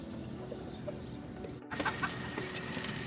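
Chickens in an animal pen on a farm in the Dubai desert, giving a few soft clucks over a steady outdoor hum, with a brief cut midway.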